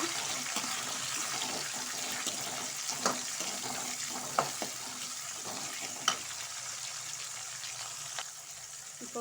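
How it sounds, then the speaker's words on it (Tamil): Tomato and curry leaves sizzle in a pan for bitter gourd thokku, a steady frying hiss throughout, with the scrape and clack of a spoon stirring now and then and no talking. "அதையும் நல்லா நம்ம வதக்கிக்கலாம்."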